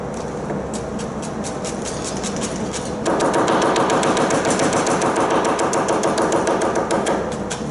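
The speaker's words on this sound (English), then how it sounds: "We're going to slice it. And I like to slice this nice and fine for this dish." Knife finely slicing onion on a cutting board, a rapid run of crisp, evenly spaced chops that grows louder and denser partway through, with no talking.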